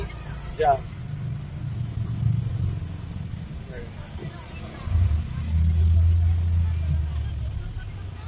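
A tuk tuk idles and creeps through a crowded traffic jam in Bangkok, a steady low engine rumble that swells now and then, with surrounding street noise and people talking.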